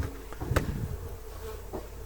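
Honey bees hum around an open hive during a spring colony inspection, a steady low buzz with a few soft knocks and clicks.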